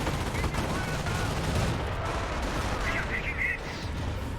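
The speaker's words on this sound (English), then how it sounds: "Here comes another Nebelwerfer barrage." Nebelwerfer rocket artillery barrage in the Company of Heroes strategy game, a dense rumbling wash of explosions and launches with a few whistling rocket shrieks near the end, loud and continuous.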